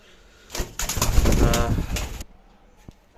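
Teddy pigeons coo in a low, throaty rolling burst lasting a second or two, close and fairly loud, preceded by a short soft note and followed by quiet.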